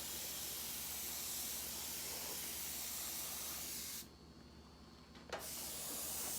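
An airbrush gun sprays black paint in a steady close hiss that cuts out for about a second and then resumes with a short puff of air.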